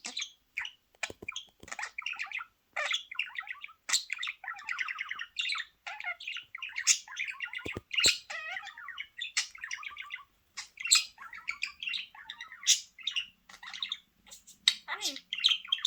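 A pet budgie chirps and twitters rapidly at close range, bursts of sharp tweets and chattering warbles in an uneven rhythm, with faint human speech in the background.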